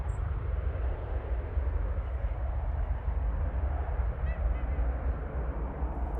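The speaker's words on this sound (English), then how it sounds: "So rumbly, those Ryanairs." Ryanair jet at Manchester Airport, a continuous deep, broad rumble that holds steady throughout, heard from a distance outdoors with no talk over it.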